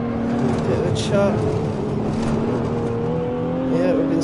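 A race car engine in the Assetto Corsa video game holds a steady, droning tone at moderate revs, with a slight pitch shift partway through and faint higher sounds over the constant engine hum.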